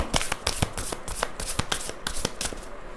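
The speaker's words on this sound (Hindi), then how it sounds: "मैं यहाँ पे जो कार्ड्स निकाल रही हूँ वो देन के लिए है" A tarot-style deck is shuffled and cards drawn for a reading, quick papery riffles and flicks in a rapid irregular run, close and clear with no talking.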